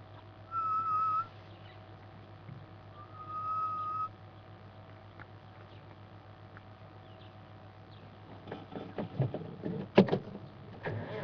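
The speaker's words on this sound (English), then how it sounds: "Grey-headed bush shrike." Grey-headed bush shrike calling at dawn in African bush during an early morning drive, a drawn-out whistled note repeated twice, fairly faint and distant, followed later by scattered clicks and knocks.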